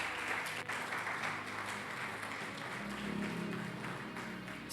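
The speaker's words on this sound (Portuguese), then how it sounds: "Aplauda o nome dele, porque ele merece." A church congregation applauding during a Sunday worship service, a steady, dense wash of clapping from many hands that holds at an even level throughout, with no distinct voices standing out.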